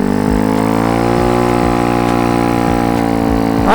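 A small motorbike engine idles steadily with a rhythmic low putter, loud and close, before briefly revving up at the end.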